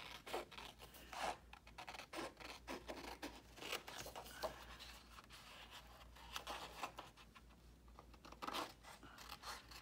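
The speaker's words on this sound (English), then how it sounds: "So I can cut it with scissors" Repeated crisp snipping and rasping strokes, like scissors cutting through paper, close by with an irregular rhythm and no talking.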